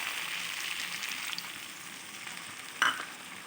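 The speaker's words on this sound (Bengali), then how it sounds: "এবার আমি এতে অ্যাড করে দেব ফেটিয়ে রাখা টক দই" Broccoli and potato cooked in masala sizzle steadily in a pan, with a brief sharper splash and crackle near the end as beaten sour yogurt is added; no talking.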